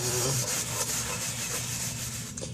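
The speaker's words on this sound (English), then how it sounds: "First use oil on it. Scrape it with oil." Steady rough scraping of a cooking pan being seasoned with oil, a continuous rasping rub that runs close and fairly quiet throughout without any speech.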